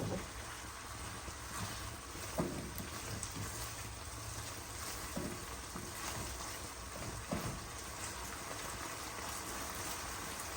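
Fish-sauce mixture being stirred in a pan over a raised flame, a steady hissing sizzle with scattered soft scraping knocks from stirring, continuous and fairly close.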